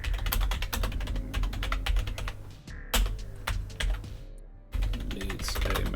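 Rapid keyboard typing runs through the whole stretch, dense irregular clicks and key strikes at close range with two brief pauses and a steady low hum underneath, no voices.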